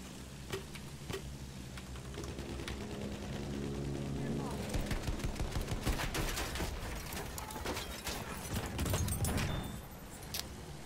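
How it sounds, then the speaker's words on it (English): Infantry gunfire in the World War I shooter Battlefield 1, heard as dense bursts of rapid shots and crackling volleys over a low engine drone, building in intensity toward the middle and end, fairly loud and continuous. "the infantry fire is strong"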